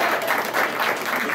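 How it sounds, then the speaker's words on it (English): Applause from a convention audience for a contestant at an anime game show, a brief dense burst of clapping heard close up. "give her a round of applause for Will, guys"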